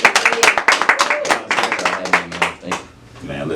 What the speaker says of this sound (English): could y'all please give a round of applause to my man